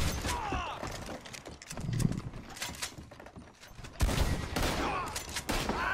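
Rapid gunfire from a posse battle in Red Dead Redemption 2 Online, repeated sharp shots in quick bursts with horse hooves and mechanical clicks mixed in, busy and mid-distance.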